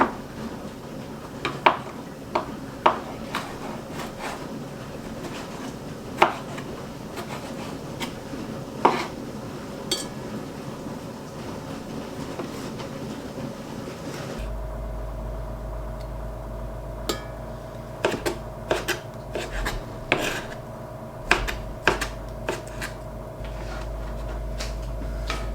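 A knife thinly slices plums for jam against a cutting surface, giving sporadic sharp taps and light clinks spread irregularly over a quiet kitchen background.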